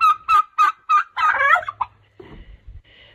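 A farm turkey gobbles close by in a rapid burst of wobbling calls, then trails off into softer clucks and low rustling.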